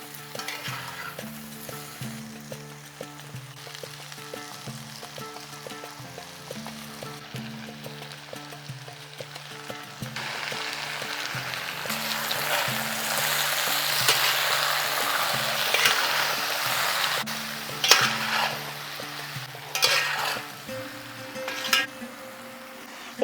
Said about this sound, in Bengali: ঠিক সেই সময়ে দিয়ে দেব বেটে রাখা মশলা।